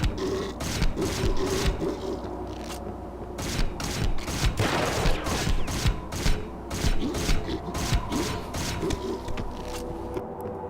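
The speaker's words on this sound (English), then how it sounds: "Now that vampire coming at you again with her machine gun, she can hurt you really bad." Sustained machine-gun fire from a vampire enemy in the Hunter: The Reckoning video game, rapid loud repeated bursts of gunshots over continuous game noise and thumps.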